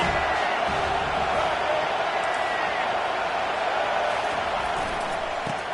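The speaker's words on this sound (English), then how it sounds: "Decibels rising as the crowd gets behind this defense on 3rd down" A football stadium crowd roars on third down as fans rally behind the defense in a Huskies game. A dense, constant wall of cheering noise fills the stadium, with an announcer talking over it throughout.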